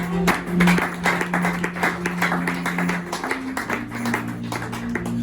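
An audience claps in church, steady rhythmic hand claps keeping time over a sustained organ or keyboard tone, fairly close and even throughout.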